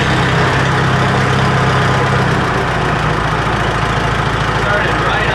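A 1954 Farmall 300 tractor engine cranks, catches and settles into a loud, steady idle with a low, even chug close by.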